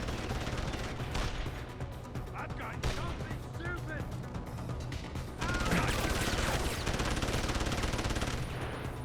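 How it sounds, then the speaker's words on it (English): Police open fire in Deus Ex: Human Revolution, a dense, continuous stream of rapid gunshots and bursts that grows louder partway through, with a voice talking over it. "the cops are gonna start shooting at me"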